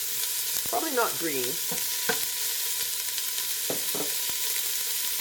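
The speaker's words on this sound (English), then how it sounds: "we're going to put in a cup of chopped onion" A cup of chopped red onion fries in a pan with a constant close sizzle and scattered stirring clicks, while a voice speaks briefly over it.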